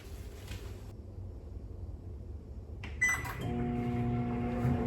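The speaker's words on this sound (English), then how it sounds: "you can put it in the microwave for a few seconds" Quiet background hum, then a door clunks shut and buttons click before a microwave starts its steady electric drone.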